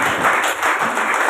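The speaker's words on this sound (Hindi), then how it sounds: "जोरदार तालियों से स्वागत।" An audience applauds to welcome a guest onto a stage at an interview event, with steady, dense clapping throughout.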